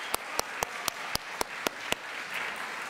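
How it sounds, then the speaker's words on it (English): A church congregation at a Christmas-season worship service applauds its musicians, with a series of sharp, evenly spaced claps standing out over soft, diffuse clapping that carries on after them. "I wanted to give a special round of applause to our musicians for Christmas"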